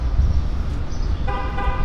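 A car horn honks repeatedly outdoors, with steady toots sounding over traffic rumble, near and loud, and no talking.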